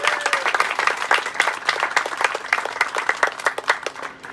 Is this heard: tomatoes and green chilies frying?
no